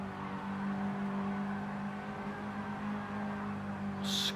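Mini Cooper Cup race cars lapping Willow Springs, a steady loud engine drone holding for several seconds as the cars run through a long right-hand bend, with a brief burst of tire squeal near the end.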